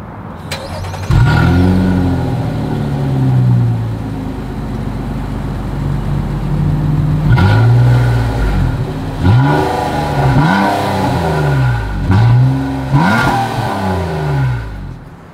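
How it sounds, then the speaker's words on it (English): A 2023 Nissan Maxima engine catches and idles, then is revved hard several times in quick bursts, each rise and fall loud and close from the exhaust. "As always, here is that exhaust clip."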